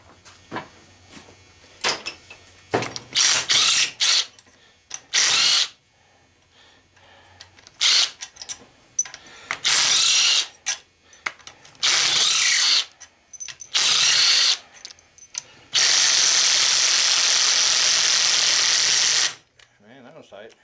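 Ratchet wrench with a half-inch socket working a motor bolt on a scrap push mower: repeated short bursts of loud ratcheting, then one longer run near the end, with quiet gaps and talking between them.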